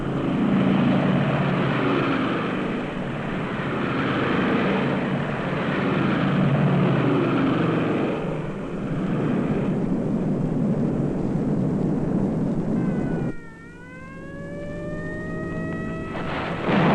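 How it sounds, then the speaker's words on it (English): British heavy bombers flying, a loud sustained droning engine roar that fills the scene, then shifts to a thinner tone with a rising and falling whine near the end. "300 British heavy bombers took to the air"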